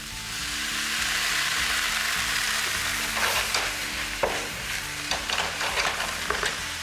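White wine poured into a hot pan with garlic, sizzling steadily and up close. Stirring scrapes and clicks join in over the last few seconds of the sizzle.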